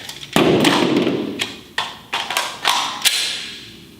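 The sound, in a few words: strong hand only pistol magazine reload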